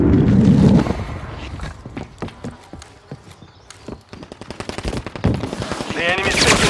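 Rapid machine-gun bursts from a Call of Duty firefight ring out loud and close, with sharp repeated cracks and stuttering volleys through the whole stretch, while brief voices call out in between.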